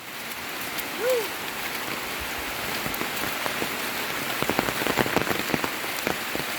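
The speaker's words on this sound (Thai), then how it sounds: "ฝนกำลังมาแล้วนี่ ทุกคนฝนกำลังมาแล้วบานนี้" Rain falling steadily on surfaces, a dense hiss with individual drops pattering louder toward the end; a brief faint voice sound near the start.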